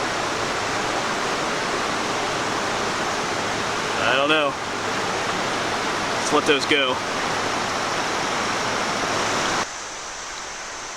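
A creek rushes through a small gorge along a wooded trail, a loud, steady broadband roar that briefly sits under a man's short spoken remarks before dropping somewhat quieter near the end.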